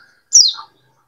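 A single short, bright chirp from a caged pleci (white-eye) songbird, close and clear against silence.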